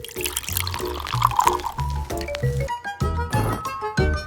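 Water pours in short bursts into a small miniature cooking pot, with light clinks and gurgles, close and clear, no talking.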